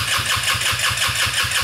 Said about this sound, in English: So now I think that everything is ready to try to start up the back engine.